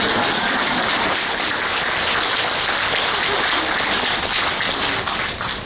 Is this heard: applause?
yes